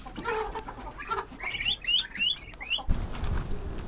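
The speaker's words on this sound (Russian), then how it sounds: "Ну а здесь у нас теперь сидят индюшары." Chickens and turkeys clucking and chattering together inside a farmyard coop, a run of short calls close by, then a gust of wind rumbles across the microphone near the end.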